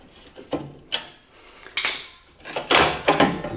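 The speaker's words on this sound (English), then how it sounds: "there's a little slot that you can twist this shroud" Plastic clicks and scrapes come from twisting the shroud off a Mazda Miata headlight during an H4 headlight swap, in short irregular bursts close to the listener with quiet gaps between.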